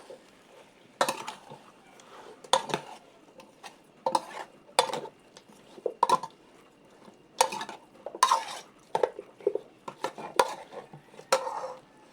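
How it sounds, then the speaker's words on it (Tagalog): Mushrooms being sautéed and stirred in a pan with a utensil for ginisang kabute: a series of sharp metallic scrapes and clinks every second or so over a quiet, faint sizzle, with no voices. "Ang susunod natin ay haluin natin muna."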